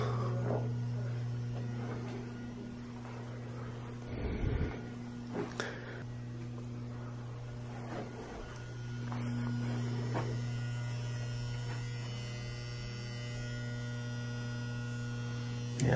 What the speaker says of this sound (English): it's got some humming